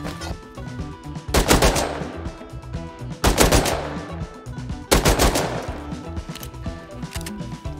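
An M39 rifle fitted with a burst module fires in a video game, giving three loud, close bursts spaced about one and a half seconds apart, each a sharp cluster of shots.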